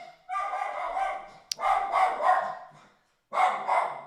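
A dog barks excitedly at someone at the door indoors, three bursts of rapid, fairly loud barking separated by short pauses, with a sharp click in between.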